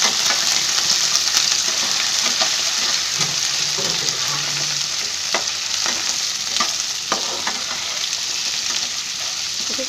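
Crab pieces tossed into roasted onion in a pan for a Konkani-style crab curry sizzle steadily, with scattered clicks and scrapes from stirring throughout and no talking.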